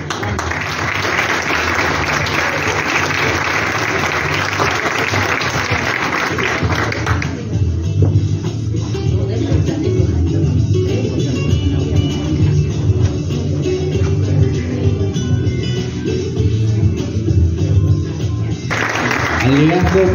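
Applause at a ceremony where graduates' names are called out, a broad wash of clapping at first that thins into a lower, rumbling crowd murmur with voices for the rest of the stretch.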